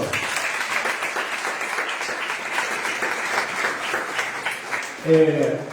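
Church congregation applauding during a Sunday worship service, a steady wash of many hands clapping at moderate distance, with a voice speaking briefly near the end.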